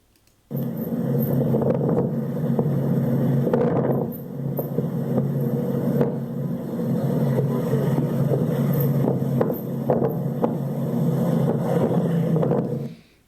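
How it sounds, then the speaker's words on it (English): A vehicle drives around nearby, a steady low engine rumble with wind-like noise that starts abruptly and holds for about twelve seconds before cutting off. "That's just somebody driving around."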